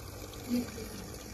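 A small model waterfall in a Kedarnath temple display gives a soft, steady trickle and splash of running water, faint and continuous over about a second.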